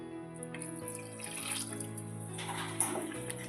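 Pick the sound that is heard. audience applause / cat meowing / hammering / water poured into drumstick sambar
water poured into drumstick sambar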